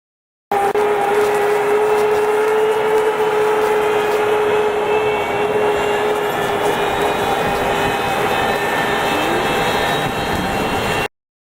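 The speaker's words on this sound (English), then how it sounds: "An F-15 has noisy engines" F-15 fighter jet engines roar steadily, a loud, constant, dense rush with a sustained high whine running through it, alone with no voices.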